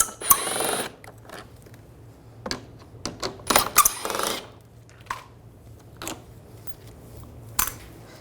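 Sharp metallic clicks and ratcheting taps come from an 8mm socket backing screws out of a 2013-2016 Dodge Dart front bumper cover, in irregular bursts with quiet gaps between them.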